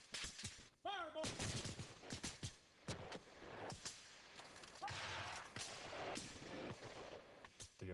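Infantry rifle fire in a Civil War battle reenactment: a series of sharp, loud shots and crackling volleys with shouting voices and commotion in between.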